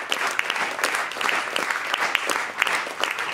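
Enthusiastic ovation from a theatre audience at the Petőfi Theatre in Sopron, dense rhythmic clapping filling the space evenly and continuing steadily without a break.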